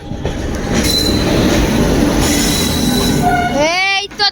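Howrah–CSMT Duronto Express, train number 12262, passes close by with a loud, steady roar of wheels and carriages. Squealing wheel tones rise toward the end, then the rumble drops away abruptly.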